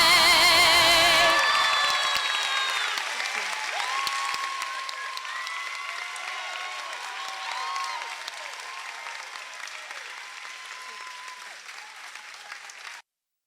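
A crowd at a school showcase breaks into applause and cheering right after the national anthem, loud clapping with whoops and shouts at first, then a long, gradually thinning round of clapping that stops abruptly.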